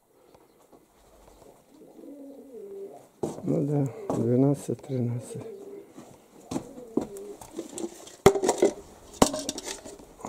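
Pigeons coo and flutter nearby while a person talks, with occasional clinks of dishes or bottles in the background.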